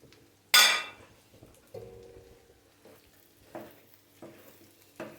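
Thick-cut onions go into frying beef tripe. A sharp, loud sizzling burst is followed by quieter, spaced stirring scrapes and hisses.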